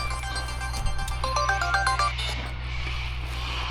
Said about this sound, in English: I've got to shut that phone up.